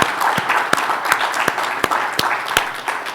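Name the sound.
conference audience applause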